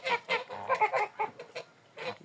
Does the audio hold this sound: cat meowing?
no